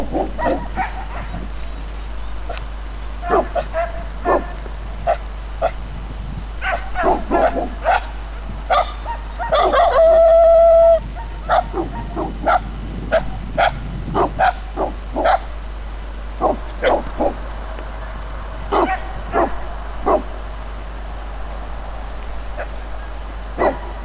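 Several dogs bark, yip and whimper while roaming freely on a field, sharp bursts scattered irregularly across the stretch, some close and loud, others farther off, with a brief sustained whine near the middle.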